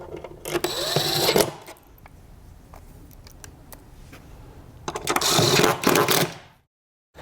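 Two bursts of a power driver whirring as it drives screws into bed rails, the first long and steady, the second after a quiet pause with small clicks and handling noises, ending in silence.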